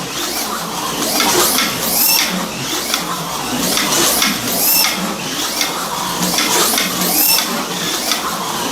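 An Outlaw V3 spec racer HO-scale slot car runs laps on a track. Its high, buzzing electric-motor whine is continuous and close, swelling in a regular rhythm about once per second as the car passes, with no talk.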